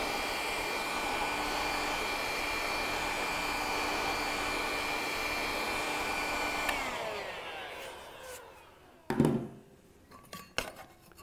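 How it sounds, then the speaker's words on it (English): A small heat gun shrinking a hose clamp, a steady loud blowing whoosh that runs for several seconds and then cuts off, followed by a few sharp clinks and knocks as the tool is set down. "Then we'll use the little heat gun action to actually shrink that up."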